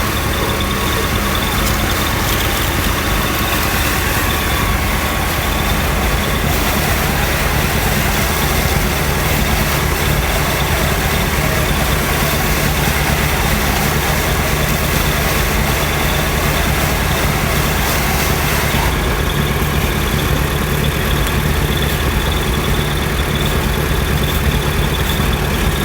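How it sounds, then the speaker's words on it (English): A 200 Allis Chalmers tractor engine runs steadily for the whole stretch, a loud, continuous low rumble and idle-like drone close by, with no talking. "the tractor we got on here is a 200 Allis Chalmers"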